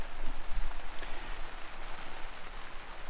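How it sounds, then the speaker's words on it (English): Rain falls steadily in a garden beside a shed, a dense hiss with soft patters on nearby surfaces, close and continuous with a few low thumps early on. "you hear the rain?"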